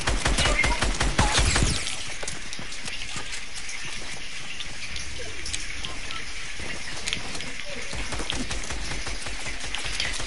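Gunfire in a PS4 shooter game: a dense burst of rapid shots in the first two seconds, then scattered lighter pops and crackles continuing faintly at a distance.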